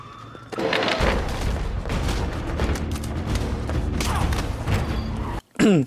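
Gunfire from a street shootout in the film The Dark Knight Rises, with dense overlapping shots, booms and mechanical clatter as cops chase criminals, loud and continuous with a sudden cut near the end.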